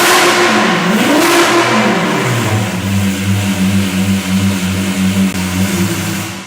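A Lamborghini Aventador V12 revs loudly and close up, its pitch sweeping up and down before settling into a steady, pulsing idle-like drone.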